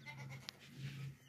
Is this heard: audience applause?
no